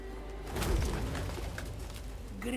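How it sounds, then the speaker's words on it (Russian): Pigeons coo softly in The Witcher 3: Wild Hunt – Hearts of Stone, a low murmuring call set within the game's ambient background for a couple of seconds. "Грёбаные птицы. Вечно все засрут."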